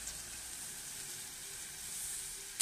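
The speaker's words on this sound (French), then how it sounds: "Je mets mon poireau. Et là, on va le faire suer un peu." Leek sweating in melted butter in a pan gives off a soft, steady sizzle and hiss that holds at an even level, with a brief louder crackle at the very end.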